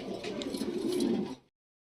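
Pet pigeons coo softly at a home loft, a brief low murmuring throaty call lasting about a second and a half, close and quiet before cutting off.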